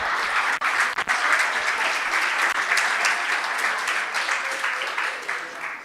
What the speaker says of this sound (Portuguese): Salva de palmas para os dois.